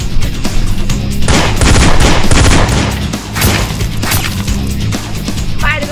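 Dense, loud gunfire in the Marvel's Spider-Man 2 video game, sustained bursts and fusillade-like rattling with crashes mixed in, continuing throughout amid game action.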